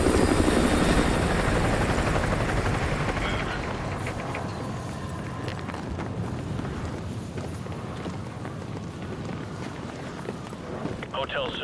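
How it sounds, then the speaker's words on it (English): Enemy helicopter patrolling a perimeter in the game Call of Duty Modern Warfare 2 Remastered, a loud continuous rotor thrum that eases slightly after the opening seconds, with voices talking over it. "Enemy helo patrolling the perimeter."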